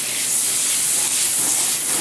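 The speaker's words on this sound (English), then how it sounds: "I'm going to go over here and saute them." Chopped red onions sauté in a pan with a loud, steady, broadband hiss of sizzling, close up and unbroken.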